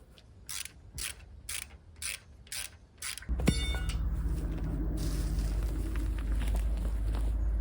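Metal clicks and ratcheting from a gate's swinging arm opener mechanism being worked on by hand, starting as regular spaced knocks, then a sharp clank followed by a continuous low mechanical grinding rumble nearby.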